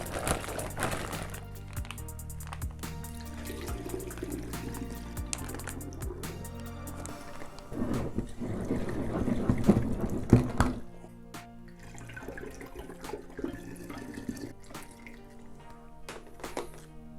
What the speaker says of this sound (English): add some spring water to the bag to rinse out any remaining juice and get that in there